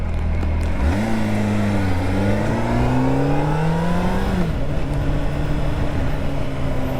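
Motorbike engine rising in pitch as the rider pulls away and accelerates, holding a steady drone with wind rush through the ride, loud and close throughout, with no talking.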